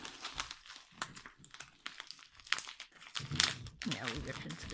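Plastic packaging of a diamond painting kit being torn open, a string of crinkling, crunching rips at close range, broken by brief pauses, with a person talking over part of it.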